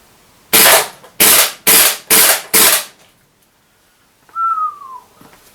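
Five sharp, evenly spaced shots from a KWA KZ61 gas blowback airsoft SMG ring out loud and close, followed after a pause by a brief falling whistle-like tone.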